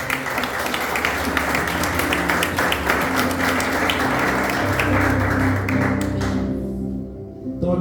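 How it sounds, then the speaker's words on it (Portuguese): A church conference audience applauds, dense continuous clapping filling a large room with a low hum underneath, carrying steadily before thinning out abruptly near the end. "Você pode aplaudir o nome de Jesus?"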